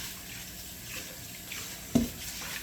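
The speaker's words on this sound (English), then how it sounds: "I'm going to give this bowl a quick rinse" Tap water runs steadily into a mixing bowl being rinsed, a soft close wash with a brief clunk of the bowl near the end.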